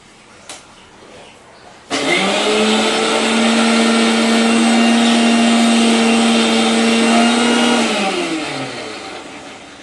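A kitchen blender whirs loudly and steadily for several seconds while grinding soaked lentils into a paste, then winds down near the end after a brief quiet start.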